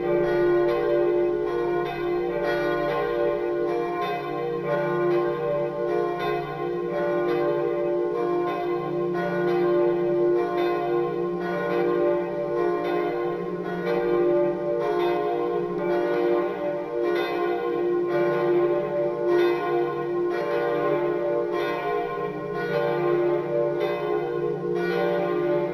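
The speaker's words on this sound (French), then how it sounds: "La cloche 2 qui se lance." A single church bell, the second of four in a tower, swings and tolls in a steady, even rhythm, loud and sustained throughout with no talk over it.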